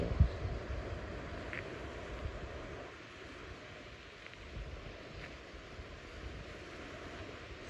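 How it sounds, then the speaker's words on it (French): Sea waves wash in a steady low rush of surf, softened by wind buffeting the microphone, with no voices present. "C'est la mer."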